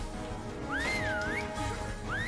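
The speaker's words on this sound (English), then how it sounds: "as long as you keep close to Chicken Little, he'll just keep whistling over and over again" Chicken Little whistles a repeating, swooping tune in the video game Kingdom Hearts II, a clear solo whistle with one rising-and-falling phrase followed by the start of another over faint game ambience.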